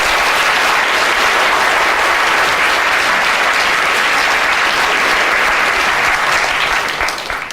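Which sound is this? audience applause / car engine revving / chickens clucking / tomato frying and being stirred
audience applause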